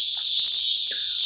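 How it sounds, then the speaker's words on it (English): Loud, steady insect buzzing of cicadas fills the whole clip, an unbroken high drone with a couple of faint chirps underneath. "there's also cicadas here. Very loud freaking bugs."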